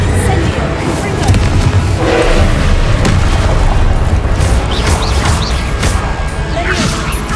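Confringo blasting spell explosions in Hogwarts Legacy, loud booming blasts in a dense continuous barrage with crashing impacts, mixed with voices.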